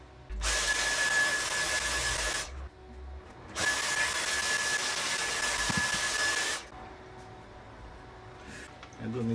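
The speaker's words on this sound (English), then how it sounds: "let's vacuum this thing again" A vacuum cleaner whirs loudly as it cleans out an old Pentium/486 computer found in the trash, running in two long steady bursts with a short pause between them, then cutting off.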